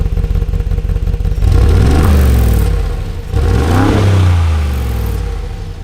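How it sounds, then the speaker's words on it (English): A Brabus G-Wagon engine revving in comfort mode, loud and close, with a deep rumble that climbs and falls through two rises in pitch over steady idle. "let me just rev it here because we're in comfort mode"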